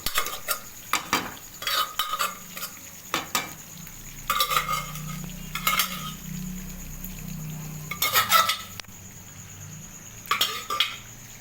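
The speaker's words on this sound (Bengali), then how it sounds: "আমি একটু নাড়িয়ে দিই" Dried peas for ghugni being stirred in a cooking pot, with repeated scraping, clinking strokes of a spoon against metal at an uneven pace over a low steady hum of simmering.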